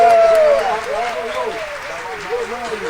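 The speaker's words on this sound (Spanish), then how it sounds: "Para, ya que se acaben los aplausos." A crowd at a live Latin music show applauds in a dense, continuous wash while a voice calls out over it, the clapping loud and sustained throughout.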